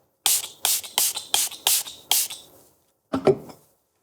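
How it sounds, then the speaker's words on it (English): Six quick pump spritzes of makeup setting spray in a steady rhythm, close and crisp, followed by a short rustle a moment later. "give my makeup a spritz of setting spray"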